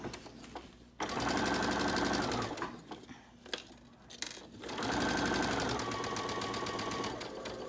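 Sewing machine stitching a fabric pillowcase, with two long steady runs of rapid, loud stitching separated by a pause for turning the fabric and a few brief bursts.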